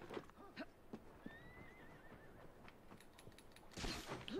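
A horse in the video game Assassin's Creed Syndicate whinnies amid faint clip-clopping hooves and background game sounds, ending in a louder burst of noise.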